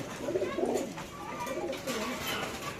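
Many pigeons at a crowded pigeon farm coo together, with repeated low throaty warbles rising and falling close by.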